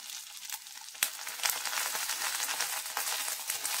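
Cubed capsicum and onions sizzle steadily in a frying pan, with a few clinks and scrapes as they are stirred, close and fairly loud with no talking.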